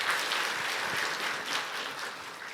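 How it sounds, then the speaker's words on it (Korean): A church congregation applauds during a Sunday service awards ceremony for a children's contest, a steady, fairly soft wash of many hands clapping together with no talk over it. "나올 때도 박수 한번 부탁드리겠습니다"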